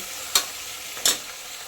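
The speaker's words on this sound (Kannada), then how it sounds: "10 ನಿಮಿಷ ಚೆನ್ನಾಗಿ ಎಣ್ಣೆಲಿ ಫ್ರೈ ಆಗಬೇಕಿದ್ದು." Tomato and onion mixture for tomato bath frying in oil in a pan, a steady soft sizzle broken by two brief stirring scrapes, close and alone with no talk.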